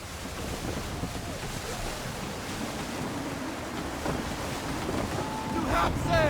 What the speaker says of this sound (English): Wind looks to be shifting. Stay alert, Connor. Gusty winds can be difficult to manage.